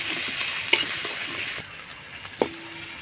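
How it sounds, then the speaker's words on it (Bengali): Chopped ginger and green chili frying in oil, a steady soft sizzle with a couple of sharp clinks from stirring, followed by a quieter stretch near the end. "আদা লঙ্কা কুচিটা আমি ভালো করে ভেজে নেব"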